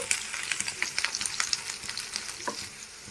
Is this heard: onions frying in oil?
yes